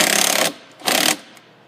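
Two short bursts of a power tool tightening a 10 mm bolt on a Ford F150 fender, each a brisk rattling whirr close by, separated by a brief pause, with a faint tap near the end.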